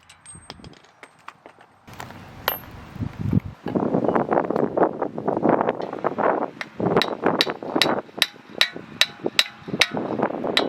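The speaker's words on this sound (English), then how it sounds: "Hit it with the hammer." Sharp metallic hammer blows on a car's front suspension knuckle ring out in a quick series, growing more regular toward the end, over scraping and shuffling noise close to the mic.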